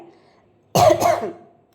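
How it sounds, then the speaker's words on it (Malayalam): A single close, loud cough bursts out in a kitchen where chili powder is being added to a dish; the double-pulsed cough is harsh and throaty, with quiet before and after. "ചെറിയൊരു ചുമ വന്നുപോയി"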